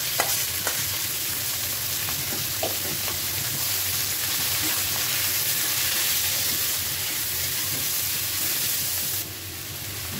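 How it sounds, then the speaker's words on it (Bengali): Leafy greens fry in the same wok they were boiled in, a dense, steady sizzle with repeated spatula scrapes and stirring clatter, dropping slightly in level near the end. "যেই কড়াইয়ে শাক সিদ্ধ করছি সেই কড়াইয়ে ভাজতেছি,"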